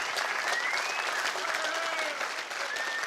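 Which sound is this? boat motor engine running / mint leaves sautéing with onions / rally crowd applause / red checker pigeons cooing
rally crowd applause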